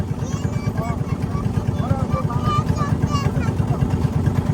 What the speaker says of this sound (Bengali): এটা হচ্ছে যে মিনি বোট পানসি নৌকা নৌকা